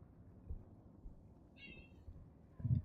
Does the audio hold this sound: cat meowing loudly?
yes